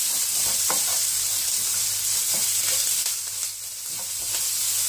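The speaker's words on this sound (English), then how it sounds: "and the garlic, chopped garlic. Chop them nicely." Chopped garlic and mushrooms frying in a pan, a loud, steady sizzle close by with a few scrapes of stirring and no voices.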